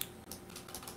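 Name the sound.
typing on computer keyboard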